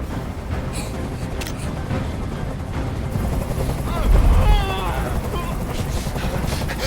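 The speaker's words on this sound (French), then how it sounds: "Fais dégager cet hélicoptère, maintenant!" Helicopter in the video game Detroit: Become Human, a loud continuous rotor drone filling the scene, with a heavier rumbling swell partway through and a voice speaking over it.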